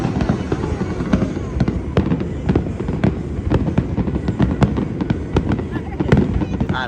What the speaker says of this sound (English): far, the fireworks were a 10 out of 10.